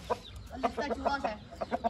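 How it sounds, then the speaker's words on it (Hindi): A hefty Kandhari rooster clucks in a quick, steady series of short calls, close and moderately loud, with a low background hum beneath. "कंधारी मुर्गा है"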